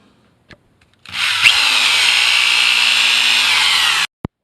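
A click, then a Hitachi SDS drill's brushed motor spins up and whines steadily at high speed for about three seconds before switching off with a final click.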